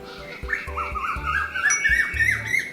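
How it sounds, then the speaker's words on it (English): A cuckoo's song in a cartoon jungle setting: bright, wavering whistled calls and chirps, fairly close and continuous, over soft low knocks in the background. "Listen carefully how sweetly the cuckoo is singing."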